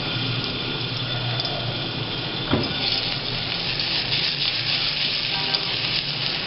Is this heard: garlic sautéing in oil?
yes